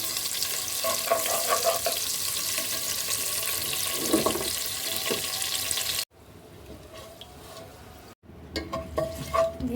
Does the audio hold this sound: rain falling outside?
no